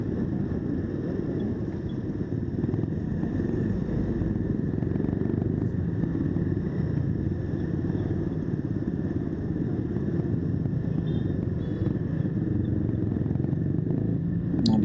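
Motorcycles moving slowly in Indonesian road traffic, a continuous low engine rumble and purr from several bikes, steady and moderately close with no pauses.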